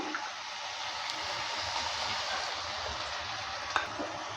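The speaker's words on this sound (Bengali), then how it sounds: "পোস্তটা দেওয়ার পর ভালো করে নেড়ে চেড়ে নিচ্ছে" Ridge gourd with poppy seed paste being stirred in a pan for chichinga posto, giving a steady soft sizzle with gentle scraping throughout and one brief sharper tap near the end.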